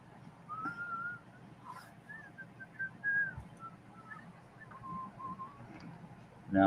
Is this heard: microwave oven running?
no